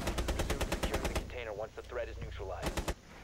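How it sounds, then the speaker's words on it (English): Rapid automatic gunfire in Rainbow Six Siege, a loud close burst of evenly spaced shots, then a player speaking over it, then a few final shots. "Oh, someone opened up a window across cash room side. Shot us, Caviera."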